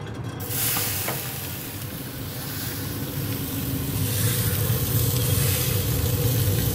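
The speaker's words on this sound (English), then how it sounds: "we're ready to start searing" A thick steak lands on roughly 600-degree grill grates, followed by a loud, steady hiss of searing that builds slightly and holds, close and continuous with no voices.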